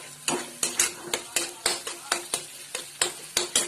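Whole spices and coriander powder frying over a high flame in a pan, with a steady sizzle under a series of regular scraping stirs, roughly two or three per second, close and fairly loud.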